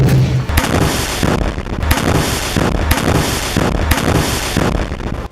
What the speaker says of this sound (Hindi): बिल्डिंग के जंगल में आईडीएफ के एक सैनिक पर रॉकेट से हमला होता है